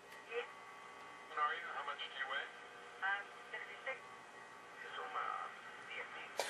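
A Philco 38-7CS radio being tuned across its dial, with snatches of broadcast voices and tones fading in and out over a steady hiss, fairly quiet throughout.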